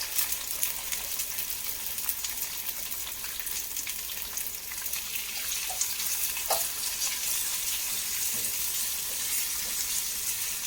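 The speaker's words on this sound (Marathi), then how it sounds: "आता वांगे आपण चांगले परतून घेणार आहे त्याच्यामध्ये थोडे हळद टाकणार आहे आपण" Brinjal fries in a pan with turmeric, giving a continuous bright sizzle close by, with occasional faint stirring clicks and no voices throughout.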